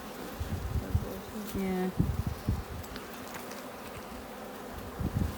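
Honey bees buzz around an open hive frame holding larvae, a close, fluctuating drone with individual bees passing near, while a person briefly speaks.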